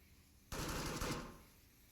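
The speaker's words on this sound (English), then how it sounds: "They have 2 or 3 LMGs just laying down the cover fire" LMG cover fire in the video game Onward erupts suddenly as a dense, rapid automatic burst at mid distance, holding for about half a second before tailing off, with no voices.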